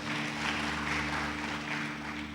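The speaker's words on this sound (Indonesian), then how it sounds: "Beri tepuk tangan yang mulia buat nama Tuhan." A church congregation applauds during a Sunday service, a steady wash of clapping held over a sustained low musical drone, moderately loud and continuous throughout.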